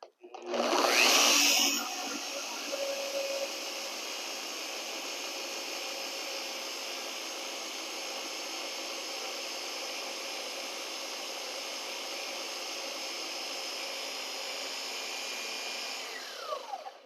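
A car polisher spins up at speed setting 2 to prime its pad, a loud steady whirring drone that starts with a sharp rise and holds constant close by for about fifteen seconds before winding down.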